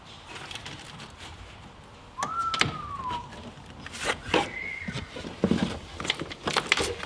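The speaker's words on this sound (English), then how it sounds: "But now we're gonna connect them back together and get these doors to open." Tesla Model X doors open in a body shop after being reconnected to a portable jump box. A rising-falling mechanical whine and clicks are followed by a second motor hum, with faint background noise.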